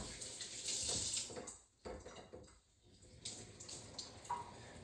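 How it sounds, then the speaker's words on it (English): Running tap water splashes into a sink as hands are wetted while making sourdough, a close, continuous rush that dips briefly in the middle before resuming, with no talk. "Gotta get your hands wet."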